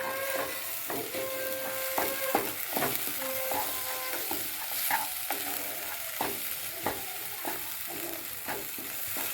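Green pea kochuri filling is stirred in a hot pan with sugar added, rhythmic scraping strokes over a continuous sizzle, close and fairly loud, with no talk.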